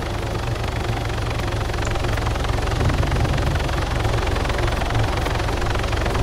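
A helicopter in the military game Arma 3, a loud, continuous engine roar with a steady rotor throb that holds level throughout, with no break and no talking over it.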